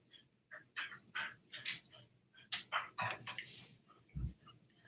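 A dog barks and whimpers close by in a string of short yips and barks, eager for a treat, with one deep thump near the end and no talk over it.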